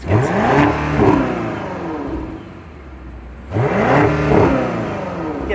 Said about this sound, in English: Get a little rev time.